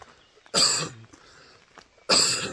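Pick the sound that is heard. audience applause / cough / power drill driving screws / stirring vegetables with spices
cough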